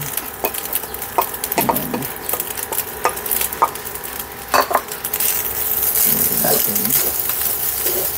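Leftover mushroom soaking liquid is poured into a pan of nasi goreng, followed by clattering stirring and scraping of rice with a utensil, with soft sizzling underneath and a steady low background hum.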